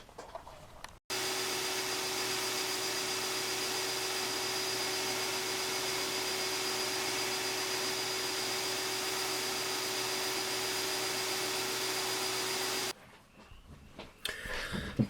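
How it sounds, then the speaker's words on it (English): A belt sander runs steadily for about twelve seconds, rounding the edges of a water buffalo horn ear plug with inlay; a loud, close, continuous whine with a steady hum, starting and stopping abruptly. "done by sandpaper, so I'm going back to the belt sander"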